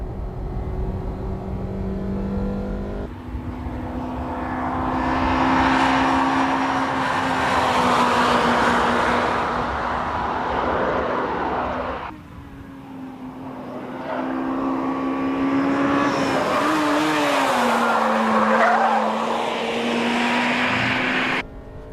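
A Honda Integra Type R laps a race course on rear tires not yet warmed up, its engine note climbing steadily through the gears with clear shifts and a loud, sustained revving drone.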